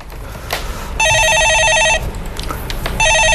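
Telephone ringing in a studio during a live Korean stock-market call-in show: two loud electronic ring bursts, each about a second long, separated by a short pause, with faint background noise.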